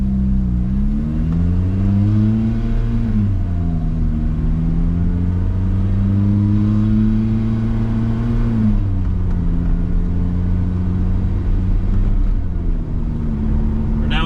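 A 2006 Ferrari F430 Spider engine drones steadily from inside the cabin, its pitch rising with acceleration and dropping smoothly at a couple of automatic gear changes.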